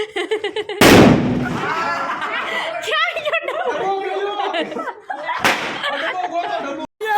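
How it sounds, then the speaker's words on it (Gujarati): Two sharp, loud sutli bomb firecracker blasts at Diwali, the first around a second in and another near five seconds, with a plastic box bursting, amid excited chatter and laughter. "સુતડી બોમ્બ અને પ્લાસ્ટિકનો ડબ્બો."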